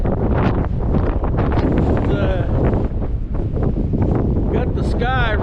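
Strong outdoor wind buffets the microphone in a steady, loud roar on a dusty day, with someone talking over it throughout.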